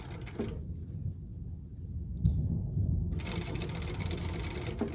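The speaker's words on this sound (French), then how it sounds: "Et on coud comme ça tout le tour." A sewing machine stitches around the edge of an ironing board cover, a close, rapid mechanical clatter that stops for about two seconds before resuming at full speed, with no talk.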